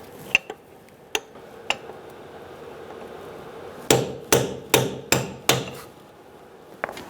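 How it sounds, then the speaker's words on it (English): Metal hammer strikes on the axle nut lip of a Subaru Forester wheel hub: a few scattered taps, then five hard ringing blows in a quick steady rhythm, close and loud, and one last lighter tap. "hammer in this little lip"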